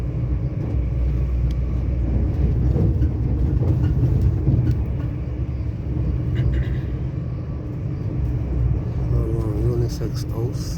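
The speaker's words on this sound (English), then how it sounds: "So, we're on the train. We're going down to Spain." A train rolls along rails on a ride toward Spain, a steady loud low rumble filling the whole stretch while people talk over it.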